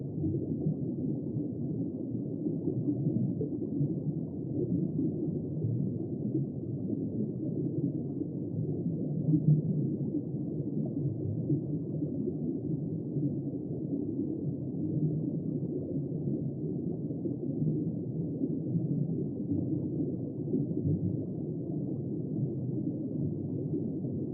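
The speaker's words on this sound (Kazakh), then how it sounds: "Көк кит. Ол тіпті автобус сияқты үлкен." Low, droning blue whale calls rumble steadily for the whole stretch, deep and continuous with no other sounds on top.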